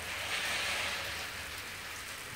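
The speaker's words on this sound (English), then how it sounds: "And it's raining and thundering." Steady rain pouring outside, a dense continuous hiss holding level throughout with no distinct thunder crack standing out.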